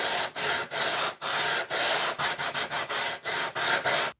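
A wood rasp shapes a piece for a kids' chair in a series of short, rough scraping strokes with brief pauses between them, close and fairly loud.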